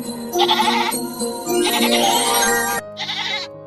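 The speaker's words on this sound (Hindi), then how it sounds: "यह तो बकरी के चिल्लाने की आवाज है," A goat bleats loudly in a long wavering cry, then gives a shorter second bleat after a brief pause.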